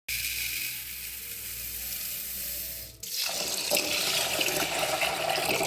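Water poured over a cup of rice in a kitchen to soak it, a steady splashing gush that starts about halfway in, after a quieter stretch of low running water, with no talking.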